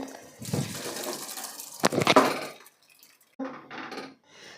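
Boiled lentils are poured from a vessel into fried masala in a pot for langar-style dal: two wet, splashing pours with a metallic clank between them, close up and separated by a short quiet gap.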